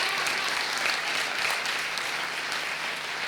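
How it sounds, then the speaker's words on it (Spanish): A crowd at a gala event applauds Carlos with a continuous, dense patter of clapping that holds steady and fairly loud for the whole stretch, with no speech over it. "Un aplauso para ti, Carlos."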